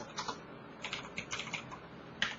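Quiet, close-up clatter of keys on a computer keyboard as code is entered in R, coming in short uneven bursts with small gaps between them and one sharper keystroke near the end, with no speech.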